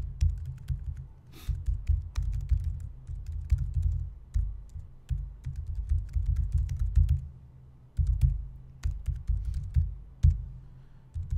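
Steady typing on a computer keyboard during a PowerShell coding workshop, with rapid, uneven bursts of close key clicks and brief pauses for more than ten seconds, and no voices.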